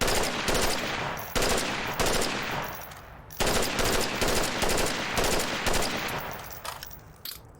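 Rifle and pistol gunfire in the VR shooter Onward at a practice range, loud rapid bursts of shots in several rattling strings broken by short pauses, close up with no talking.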